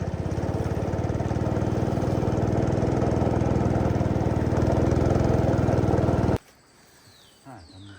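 A boat engine crossing the Mekong River, a loud, steady close motor drone that stops abruptly near the end, leaving quiet water and ambient sound.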